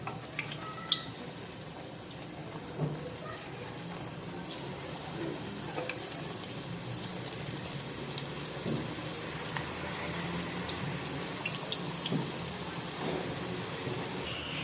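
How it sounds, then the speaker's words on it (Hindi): Samosa-strip papdi fries in hot oil with a dense, steady crackle and sizzle, close and continuous, with scattered small pops. "चलें ये फ्राई कर लेते हैं।"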